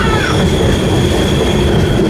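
An Amrit Bharat Express train runs loud and close, a heavy rumble of wheels on track with a high squeal sliding down at the start and a steady whine over it.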